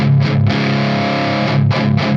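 An electric guitar played through a BOSS GE-7 EQ pedal set to cut the mids sounds loud, close chord strikes that sustain between a few renewed strums.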